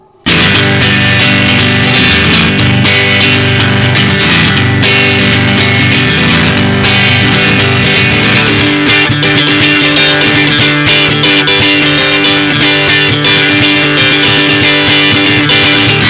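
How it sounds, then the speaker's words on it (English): A distorted electric guitar plays continuously, loud and dense, with sustained chords and ringing notes throughout. "This is the sound of an electric guitar."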